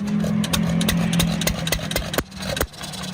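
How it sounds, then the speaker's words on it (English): A restored 1925 John Deere Model E hit-and-miss engine on a tractor built on a 1964 Wheel Horse chassis runs up close, a steady low drone broken by sharp, irregular firing pops. "check out a 1925 John Deere E hit and miss tractor"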